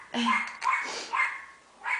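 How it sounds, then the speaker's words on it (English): Dogs bark indoors, a string of three or four sharp yips and barks at close range, each burst short with brief gaps between them. "Oh, you can hear my dogs."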